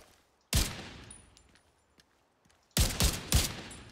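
M4 assault rifle fired in The Division 2 shooter game: one sharp loud shot, a pause, then three quick single shots in a semi-automatic rhythm, each with a short decaying tail.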